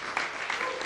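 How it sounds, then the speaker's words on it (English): An audience claps in a round of applause at a debate event, a brief, dense patter of many hands at moderate distance with no voices over it. "If we could give him a round of applause for being supportive."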